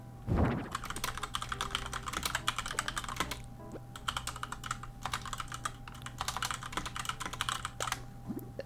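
Steady clicking from a computer keyboard, typed at a quick, even pace up close and fairly quiet, with one soft thunk near the start.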